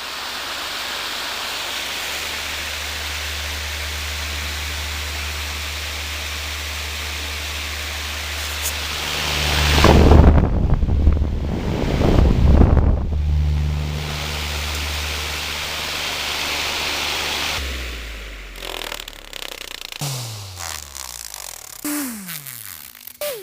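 A powerful bathroom exhaust fan running on its high setting gives a steady broadband whoosh with a low hum, interrupted midway by louder rushing bursts, then handling clatter near the end.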